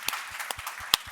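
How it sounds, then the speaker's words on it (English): Sparse, scattered claps from a conference audience at the close of an artificial intelligence panel session, a handful of separate sharp hand claps in a thin, short burst. "we need a round of applause for you guys for sitting through the last session of the FMX"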